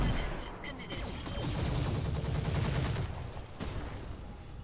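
Mech weapons fire in the Roguetech video game as a dense, rumbling barrage of rapid shots and explosions that swells and then eases slightly toward the end.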